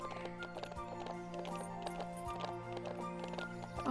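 Horse hooves clip-clop at a steady walking rhythm in the Ranch of Rivershine video game. The hoofbeats are quiet and even, with faint game background sound under them.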